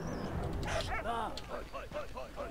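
A dog barks and yips in the World War I game Valiant Hearts, a run of short repeated yelps under game sound, while a voice talks over them.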